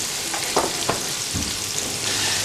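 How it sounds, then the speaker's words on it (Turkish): Steady crackling sizzle of liver pieces frying in hot oil in a pan, with a few soft clinks and stirring sounds over the hiss. "Isınmış olan yağımızın içine ciğer parçalarımızı koyuyoruz"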